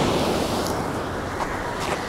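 Stormy sea with waves and surf crashing on the shore during a fishing trip, a loud continuous roar of water mixed with wind buffeting, no voices.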